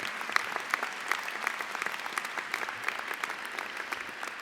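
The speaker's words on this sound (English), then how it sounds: "So give yourself an applause." Graduates and audience at a medical school commencement break into applause, a dense, even clapping that fills the hall for several seconds with no voices over it.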